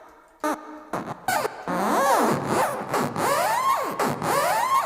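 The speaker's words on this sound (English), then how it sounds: "So this is me rubbing against the metal." Rubbing against a giant metal egg produces squealing, swooping tones that rise and fall in repeated arcs, preceded by a few short scraping bursts, close and fairly loud.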